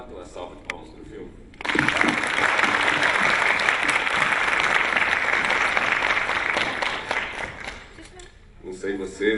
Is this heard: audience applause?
yes